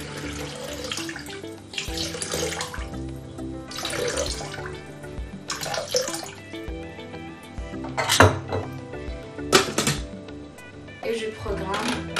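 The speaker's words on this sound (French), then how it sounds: "J'ajoute mes 500 g d'eau." Water is poured into a Thermomix bowl, a running splashing stream with clinks of a container against the bowl and soft rattles, close and fairly quiet, with some talk underneath.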